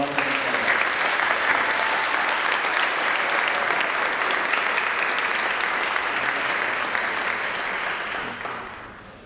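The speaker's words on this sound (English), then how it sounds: "Please, a round of applause." An audience at a Board of Education awards ceremony breaks into sustained applause for a student award winner, a thick, even clapping that stays strong for most of the stretch before tapering off at the end.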